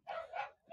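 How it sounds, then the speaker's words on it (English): A dog indoors gives two quick, close, moderately loud barks in a row, followed by a faint trailing yip. "Sorry about the dog."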